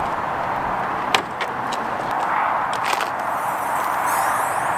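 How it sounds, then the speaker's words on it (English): The bonnet of a straight-piped, stage 2+ VW Golf MK5 GTI is opened, with a couple of sharp clicks and a soft clunk over a quiet, steady background. "Now let me open the bonnet"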